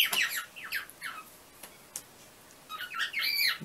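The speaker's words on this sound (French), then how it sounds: "désolé pour les oiseaux" Several birds squawk and chirp in bursts of harsh, high calls, close by, with a quieter pause in the middle before the calling picks up again.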